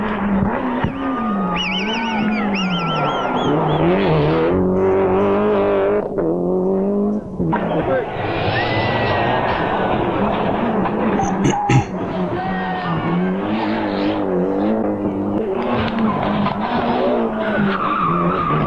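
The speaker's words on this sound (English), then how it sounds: "That ST-185 is the best sounding car out of all of them that I'm hearing here." A Toyota ST-185 Group A rally car runs hard on tarmac, its engine roaring loud and close as it revs up and down through gears. Tire squeal sounds at points, and the engine note stays unbroken throughout.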